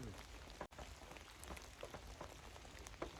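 Light rain pattering and dripping through a forest canopy onto leaves and the ground, a steady soft crackle of drops with no voices, broken by one brief dropout.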